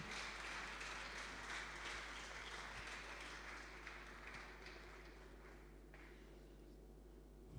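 A church congregation applauds with sustained, dense clapping that fills the space and slowly tapers off.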